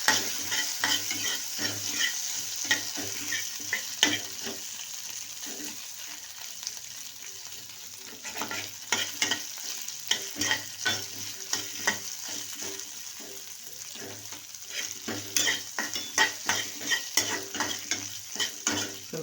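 Onions tossed and stirred in a hot pan for chapathi pasta, with a constant low sizzle and a long run of spatula scrapes and knocks that grow busier toward the end, near and steady.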